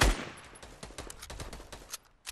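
Rapid burst of automatic gunfire in the Fortnite video game, followed by a few separate shots, fairly loud and close with no talking over it.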